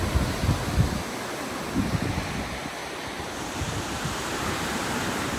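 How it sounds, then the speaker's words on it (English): Lake Superior waves break steadily on the shore at Pictured Rocks, a continuous roaring wash mixed with gusty wind buffeting the microphone and a few low thumps early on. "you can just see it when the water breaks a little bit."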